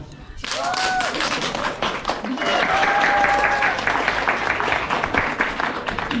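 A crowd at a charity bike ride in Ivano-Frankivsk claps steadily and loudly, dense overlapping applause, with voices and a few whistles or shouts rising above it.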